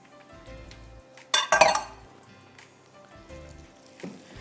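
Chicken coated in cornflour, salt and black pepper shallow frying in a pan, with a loud burst of sizzle as pieces go into the hot oil, then quieter crackle, clinks of utensils against the pan.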